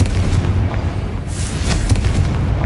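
A Confringo fire spell explodes in the PS5 game Hogwarts Legacy, giving a dense, loud booming blast with a sustained rumbling roar and scattered crackling bursts throughout.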